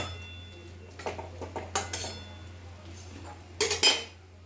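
A lid settles onto a frying pan with several light metallic clinks and taps, then a sharper double clatter near the end, over a quiet kitchen hum.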